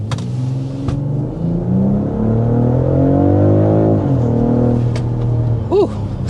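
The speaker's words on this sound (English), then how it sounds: "But first, we want to go ahead and start with a hard acceleration." A BMW X3 M50 accelerates hard, its engine note climbing loud and steady for several seconds before easing off, with a short exhale from someone near the end.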